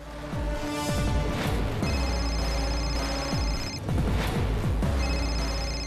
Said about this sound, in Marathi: अरे कुणाचा रे फोन वाजला?